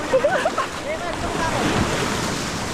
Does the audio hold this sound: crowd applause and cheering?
no